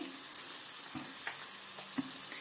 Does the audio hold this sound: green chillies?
yes